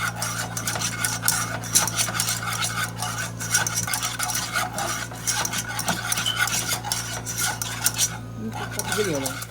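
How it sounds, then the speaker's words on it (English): A whisk scrapes and stirs flour into oil in a pan for brown gravy, a steady close rasping scrape running throughout with a low hum beneath and no talk. "I'm gonna cook this flour for a few minutes, y'all."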